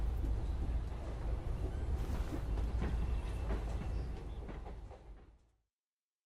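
Train station ambience from the Syberia video game: a steady, rumbling low hum with muffled clatter and a busy wash of distant activity, holding level before fading out near the end.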